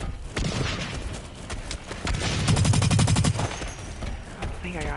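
A light pistol fires in the shooter game Blacklight Retribution, a fast, loud run of rapid shots with a dense rattling burst in the middle, amid layered game effects and no clear talking.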